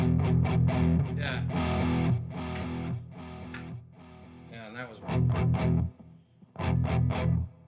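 Noisy high-gain distorted electric guitar with P90 pickups plays chopped, stabbing chords with short gaps between bursts, loud and close, with a brief spoken remark in between.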